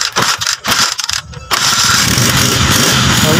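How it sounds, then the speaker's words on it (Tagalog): A Rusi 125 motorcycle, just rewired after losing electrical power, cranks through a few brief stuttering bursts and then catches, settling into a steady, loud, close idle that runs continuously to the end. "I-start na muna natin yung motor."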